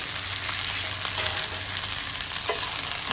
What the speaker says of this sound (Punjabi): ਤੇਲ ਬਹੁਤ ਜ਼ਿਆਦਾ ਗਰਮ ਹੋ ਗਿਆ ਤੇ ਹੁਣ ਆਪਾਂ ਪਾ ਦਈਏ ਇਹਦੇ ਵਿੱਚ ਪਿਆਜ਼